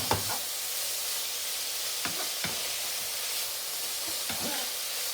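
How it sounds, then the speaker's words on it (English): Bacon and egg fried rice sizzling steadily in a hot pan, with a constant frying hiss and a few soft scraping thumps as it is stirred and moved around, close and moderately loud, no talking. "This usually takes about 6-7 minutes to cook. Just keeping it moving around the pan."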